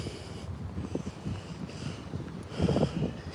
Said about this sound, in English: And it is real windy out here, man.